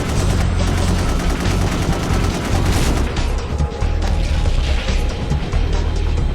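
Defense guns firing in the video game Gun Metal: dense, continuous rapid gunfire with heavy booming impacts, loud and sustained throughout with no let-up.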